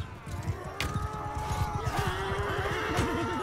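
In Mount & Blade II: Bannerlord, a cavalry horse whinnies as it goes down during a battle, a loud drawn-out neigh amid hoofbeats and clattering combat noise, with no talk.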